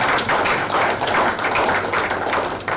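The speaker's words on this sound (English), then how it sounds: "Please let's clap for her until she gets here." Audience at a Nigerian Export Promotion Council event in Cross River State applauding as a professor makes her way to the front, continuous loud clapping with irregular sharp hand slaps throughout.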